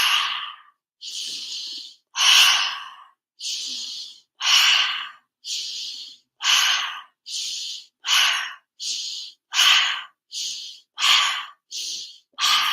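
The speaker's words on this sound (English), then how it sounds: "As you're breathing out, pull the belly in." Deep, deliberate breaths in and out through the body like a bellows, with the belly pulled in on each exhale; about a dozen loud, close, breathy bursts in a regular rhythm separated by short silences.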